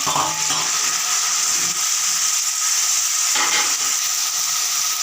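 Cumin, onion, green chilli, garlic and tomato fry in a pan for a brinjal kadayal, giving a steady, close hiss of oil with faint stirring scrapes throughout, no talking.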